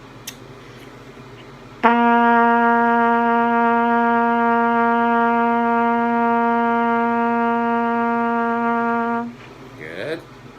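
A trumpet sounds a low C with open valves, one sustained steady note held for about seven seconds after a brief pause, then released into quiet.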